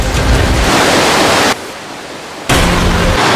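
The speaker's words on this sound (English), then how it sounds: "this river actually runs throughout the entire cave" A river rushes through a deep cave, a loud, dense roar of water that drops abruptly for about a second before surging back to full strength.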